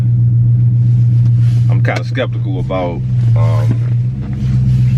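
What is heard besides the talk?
2020 Dodge Challenger R/T Scat Pack engine rumble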